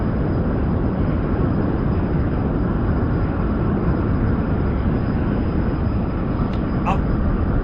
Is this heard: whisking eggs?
no